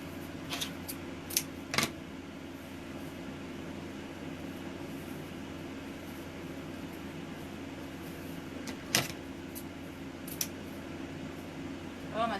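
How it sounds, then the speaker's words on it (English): Several quick snipping clicks from dull scissors cutting ribbon, spaced irregularly over a steady low hum of room noise. "oh, my scissors are getting dull."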